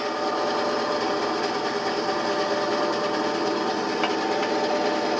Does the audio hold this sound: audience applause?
no